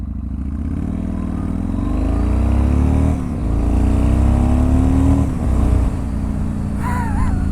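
A Yamaha MT01 motorcycle peels away from a stop, its loud, close engine note climbing steadily as it accelerates, with a brief dip and surge as it pulls through.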